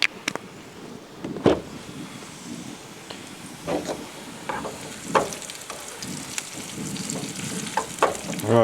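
Onions sizzle and crackle in a hot pan at a campsite, with scattered pops and occasional stirring scrapes over a constant frying hiss.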